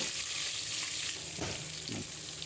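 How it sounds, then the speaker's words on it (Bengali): Bay leaf, cloves and cardamom sizzle in hot oil left over from frying fish, with a steady crackling hiss throughout and a couple of soft thuds as the spices settle. "উঠিয়ে নেওয়ার পর এর মধ্যে আমি দেবো এটা হলো তেজপাতা, লবঙ্গ, এলাচ দিয়ে দিলাম।"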